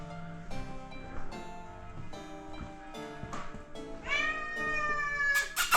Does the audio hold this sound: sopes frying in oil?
no